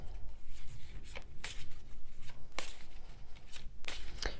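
Tarot cards being shuffled at close range, soft papery riffles and slides in several short bursts over a low background hum.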